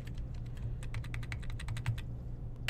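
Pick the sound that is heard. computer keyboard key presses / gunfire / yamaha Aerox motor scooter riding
computer keyboard key presses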